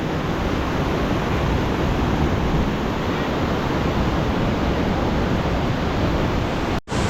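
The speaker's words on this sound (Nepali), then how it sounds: "यो तपाईँको अगाडिको देखिरहेको चाहिँ त्रिशुली खोला हो, जुन चाहिँ तपाईँको माथि गोसेकुण्डबाट बगेर आएको।" The Trishuli river rushes by near Mailung waterfall in Nuwakot, carrying water down from Gosaikunda. The roar is loud and unbroken, with a brief dropout near the end and no voices.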